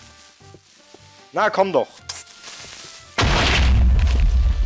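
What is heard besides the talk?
Minecraft creeper hissing and exploding, video game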